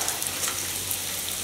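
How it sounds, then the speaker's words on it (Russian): Onion frying in a pan while cooking kurutob, a steady close sizzle with a fine crackle running throughout, no talk. "И лук должен жариться до золотистой корочки."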